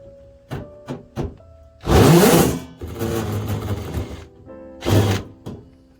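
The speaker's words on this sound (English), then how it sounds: "And this is the way you remove screws." Sheet metal screws being backed out of an Inkbird temperature controller: a few sharp clicks, then loud close whirring bursts of a driver spinning, one long run followed by a shorter one, with no talking.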